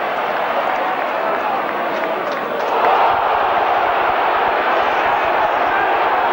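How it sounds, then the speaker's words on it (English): A rugby league stadium crowd roars loudly and steadily, swelling louder partway through, with a commentator's voice running beneath the din. "a big roar there from the crowd"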